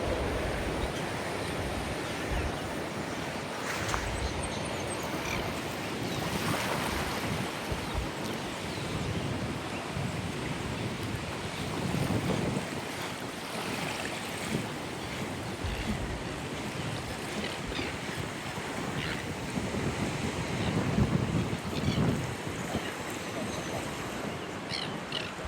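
Ocean waves hitting the rocks on a beach in Cape Town, a continuous washing surge with swelling crashes every few seconds, heard fairly close under light wind.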